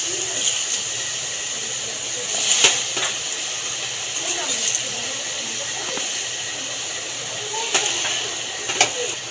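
Pumpkin greens hit hot mustard oil in an empty wok, giving a steady bright sizzle and hiss with occasional clinks of utensils, while someone talks over the cooking.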